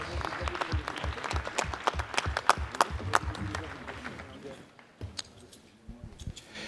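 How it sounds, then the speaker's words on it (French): An audience at a livestock show in an arena claps to congratulate a draft horse presentation, a burst of sharp, irregular claps that thins out and fades to scattered claps and background murmur. "monsieur Thierry Lacombe, avec quelques applaudissements également pour féliciter cette présentation."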